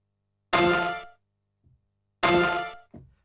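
Two bright synth notes from a song, each a plucked, guitar-strum-like chord with two pitches sounding together, ringing and decaying for about half a second, separated by silence.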